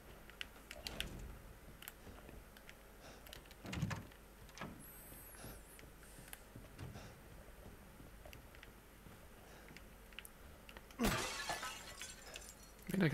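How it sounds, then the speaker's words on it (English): Pots and cardboard boxes get smashed in the video game Resident Evil 7. A few sharp breaking crashes stand out, one near the start and a louder one later, over quiet game ambience. "I kind of do feel a bit bad smashing pot, like cardboard boxes I'm okay with"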